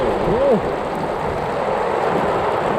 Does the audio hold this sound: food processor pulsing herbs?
no